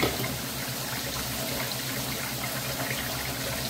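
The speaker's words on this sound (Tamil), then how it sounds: "தண்ணி ஊற்றி புளி ஊற வச்சாச்சு" Water is poured over tamarind in a kitchen so it can soak; a steady, close splashing pour runs throughout with no talking.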